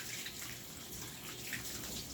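Tap water sprays steadily and close during a puppy's bath, a continuous broad hiss with no talking.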